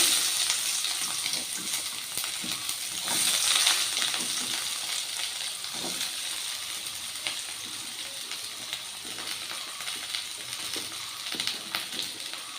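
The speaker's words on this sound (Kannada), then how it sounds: "ಎಣ್ಣೆ ಬಿಸಿಯಾಗಿದೆ ಈರುಳ್ಳಿ ಹಾಕೋತಾ ಇದ್ದೀನಿ" Sliced onions fry in hot oil in a pan, giving a continuous bright, close sizzling hiss with faint stirring scrapes and crackles throughout.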